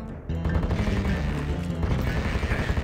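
Firemace weapon firing in Heretic: Shadow of the Serpent Riders, a dense, continuous stream of rapid gunfire-like bursts with heavy low rumble, loud and steady throughout with no talking.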